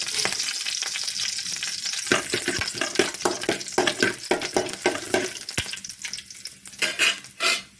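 Cinnamon and cloves fry in hot oil, crackling and spitting close by, with sharp clinks and scrapes from stirring growing busier toward the end.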